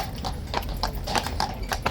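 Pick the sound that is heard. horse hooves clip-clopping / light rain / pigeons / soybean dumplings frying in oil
horse hooves clip-clopping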